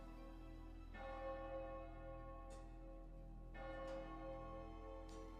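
A church-style bell tolls in the game Path to Nowhere, three or four ringing strikes spaced about a second and a half apart, each decaying slowly over a low steady hum, with no voices.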